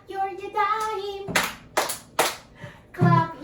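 Hands clapping in a children's Hebrew body-movement song, several sharp, evenly spaced claps in a group, alternating with a sung or spoken melodic voice.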